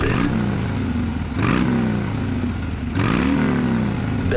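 A motorcycle engine revs in repeated surges, three loud rising bursts with clattering mechanical texture between them.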